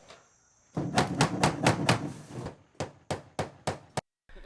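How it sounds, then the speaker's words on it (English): Hammer driving stainless or galvanized nails into cellular composite siding: a quick run of sharp, evenly paced strikes, a brief pause, then several more spaced blows, close and crisp in a quiet setting. "It's fastened with stainless or galvanized nails."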